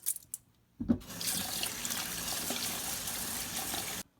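Rice is washed in water before cooking, with running tap water splashing steadily into a bowl at the sink for about three seconds. It begins after a few faint knocks and stops abruptly, and no one speaks.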